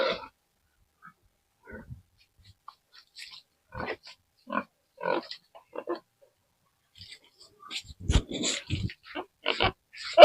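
Pigs at a pig farm grunt and oink in scattered bursts close by, growing denser and louder toward the end, with a person talking near them beside a nipple drinker.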